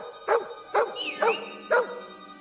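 Four sharp, evenly spaced dog barks from the medieval role-playing game Kingdom Come: Deliverance 2, loud and close, standing alone without talk.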